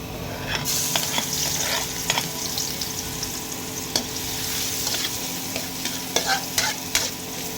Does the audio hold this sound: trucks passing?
no